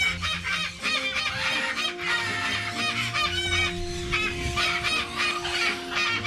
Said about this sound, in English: This is a pair of citron-crested cockatoos.